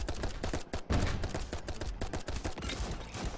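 Rapid, continuous gunfire in the video game Survive To Giant, a dense stream of sharp shots at steady loudness with brief dips, close and without any talk.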